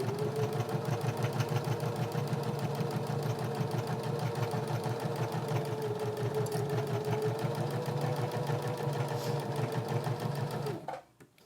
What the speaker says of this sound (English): I'm going to stitch right up close to the edge of this elastic